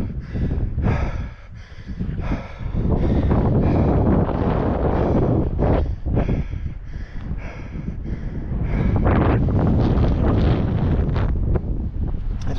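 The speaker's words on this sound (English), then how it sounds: "It's pretty windy." Strong wind on a mountain top in the Brecon Beacons during a mountain bike ride, buffeting the microphone in loud, continuous roaring gusts with no talk.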